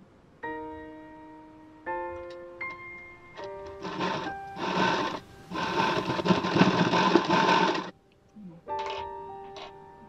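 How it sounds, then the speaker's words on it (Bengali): A sewing machine top-stitches a double-folded edge of princess-cut blouse fabric in several loud, close bursts. A whining motor hum carries through the brief pauses between runs. "করার পরে আমরা একটা চাপ সেলাই দিয়ে নেব"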